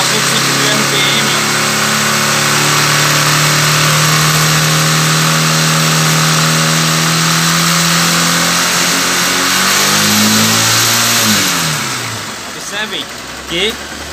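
A Honda CG 150 Titan motorcycle engine revs hard and holds high RPM, loud and close, its pitch climbing in steady harmonics before dropping back toward idle near the end.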